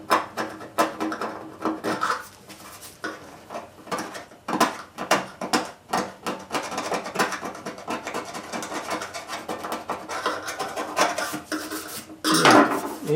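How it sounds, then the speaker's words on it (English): Steady, gritty scraping of paint off a metal tailgate on a Ford F100, close and loud, with dense rasping strokes repeating rapidly and no talking. "it sounds like you're gouging the metal, but actually you're not."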